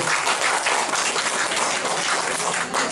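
An audience at a supplement business seminar claps steadily, a dense, full round of applause that fills the room for several seconds without a break.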